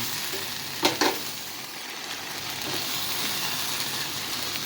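Bitter melon (ampalaya) and eggs fry in a pan with a steady, even sizzle, and two quick scrapes of a utensil stirring come near the start. No voices.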